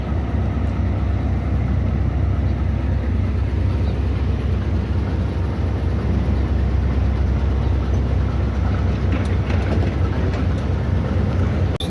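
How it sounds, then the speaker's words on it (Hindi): Goods train reversing slowly during shunting in a big rail yard, a loud continuous low rumble of wagons and engine with faint metallic squeals over the top, steady throughout. "अब ये ट्रेन वापस बैक हो रही है।"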